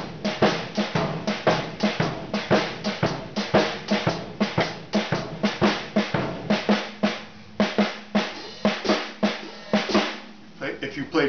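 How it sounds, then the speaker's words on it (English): A drum kit plays a Texas shuffle with ghost notes, a steady swung pattern of quick, close hits, with soft in-between strokes filling the groove throughout. "You play a Texas shuffle, Texas ghost notes. It sounds like this."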